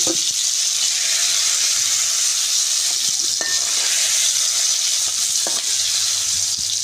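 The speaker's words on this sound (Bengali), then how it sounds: "আমি গোটা জিরে ফোড়নে, এবার দিয়ে দেবো আমি তেজপাতা," Whole cumin and bay leaf sizzle loudly in hot oil in a pan, a dense, close crackling fry with a few sharp clinks of a spoon stirring, no voices.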